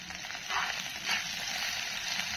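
Red chilli powder and coriander powder frying in oil in a pan for a prawn malai curry, a steady close hiss and sizzle with soft swells as the masala is stirred, no talk.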